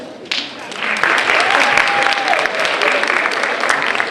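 A school Black History program audience breaks into full, dense applause that swells after a brief moment and holds steady and loud throughout.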